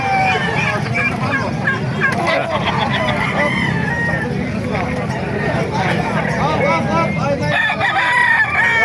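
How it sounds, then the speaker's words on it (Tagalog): Many chickens cluck and roosters crow over a constant crowded din at a chicken market in Calumpit, Bulacan, with people talking and a vehicle rumbling in the background. "napakarami pa manok dito"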